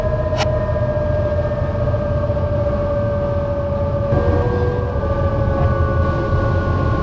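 Horn-like tonal drone of a passing train, steady sustained tones over a continuous low rumble, with a brief high whistle near the start and a slight pitch shift midway, fairly loud throughout.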